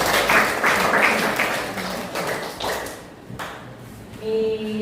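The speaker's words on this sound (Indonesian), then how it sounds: "Kasih tepuk tangannya dulu." A classroom group of teachers in an Indonesian-language training session claps together in a brisk burst that fades out, followed by a brief ringing electronic tone.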